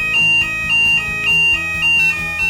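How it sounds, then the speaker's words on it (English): An electronic fire alarm bell inside a building rings in steady repeated bursts, about five pulses with short gaps, loud and close with no voices. "You might hear a local fire bell within buildings."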